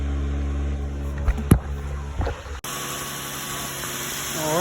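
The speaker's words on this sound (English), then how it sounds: "Car's running." A 2009 Hyundai Genesis engine running after a starter replacement, a steady close idle hum with a few knocks and clatters at first, then a sharp change to a brighter, continuous running drone.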